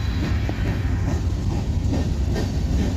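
A freight train rolls by close and loud, a dense continuous rumble with steady rhythmic wheel clatter over the rails.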